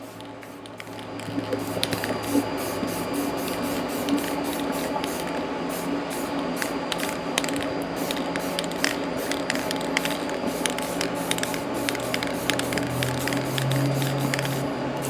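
Spray paint hisses in a continuous steady stream around the port of a hydraulic cylinder, close and loud, with faint clicking from the nozzle and can throughout.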